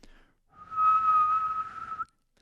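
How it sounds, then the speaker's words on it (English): A person whistles a single low, steady tone that holds for about a second and a half, clear and close with no talking, preceded by a brief faint breath. "So if I were to whistle a low tone,"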